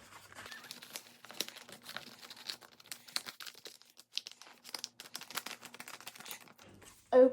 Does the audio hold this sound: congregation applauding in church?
no